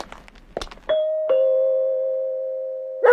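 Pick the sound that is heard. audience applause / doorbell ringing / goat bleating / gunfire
doorbell ringing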